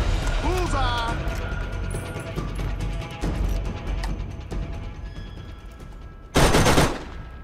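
Rapid gunfire from the video game Borderlands, a continuous rattling burst with a loud crash near the end, under someone speaking.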